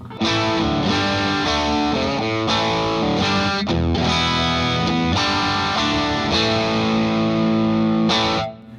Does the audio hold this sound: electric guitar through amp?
yes